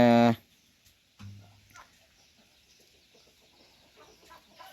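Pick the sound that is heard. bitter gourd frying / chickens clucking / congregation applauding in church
chickens clucking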